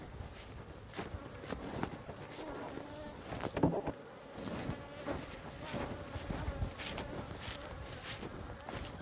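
Honey bees buzz around a hive, many overlapping drones rising and falling close by, with light rustling and scattered knocks underneath.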